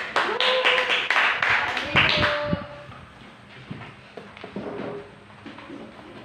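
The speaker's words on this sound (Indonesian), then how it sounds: "mari kita tepuk tangan untuk" Fourth-grade students in a classroom give a burst of loud, rhythmic hand clapping for presenting classmates that stops after about two seconds, followed by quieter room sounds and brief speech.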